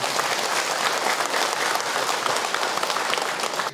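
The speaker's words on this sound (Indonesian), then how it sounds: "Tepuk tangan buat ibu-ibu semua" Applause from an audience of women at a religious gathering, steady dense clapping that stays even and continuous for several seconds, then stops abruptly at the end.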